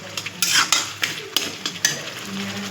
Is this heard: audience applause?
no